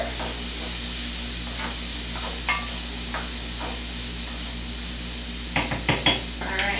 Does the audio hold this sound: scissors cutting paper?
no